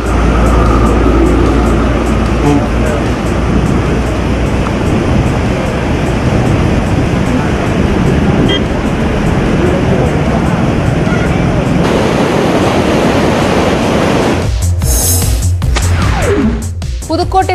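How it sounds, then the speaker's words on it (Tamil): Floodwater of the Palar river near the Vellore new bus stand, running bank to bank as a continuous loud broadband rush and roar, with a brief shift in the final seconds. "வேலூர் புதிய பேருந்து நிலையம் அருகே உள்ள பாலாற்றின் இரு கரைகளை தொட்டபடி வெள்ளநீர் செல்கிறது."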